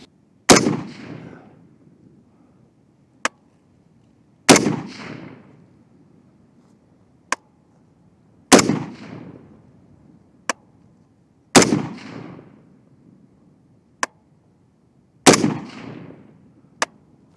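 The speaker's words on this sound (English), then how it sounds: "now I'm going to fire the 25 rounds" An Orca rifle fires at an outdoor range, one loud crack every three to four seconds, each with a short echoing tail, and a fainter sharp snap between shots.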